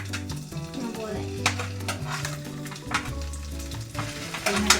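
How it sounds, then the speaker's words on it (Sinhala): Sausage pieces frying in a pan for Sri Lankan mixed rice, loud crackling sizzle with a spoon stirring and clinking against the metal, busy and close. "දැන් සොසේජ් ටික අපි fry කරන්න ඕනේ."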